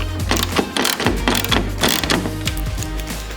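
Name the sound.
bolts being driven in to mount tail light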